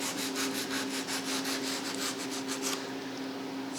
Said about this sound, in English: sand this molded edge